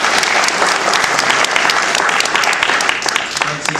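Applause from an audience at a biotechnology award ceremony, honoring a contributor: dense, steady clapping that holds loud and continuous throughout, close and full, with no pause.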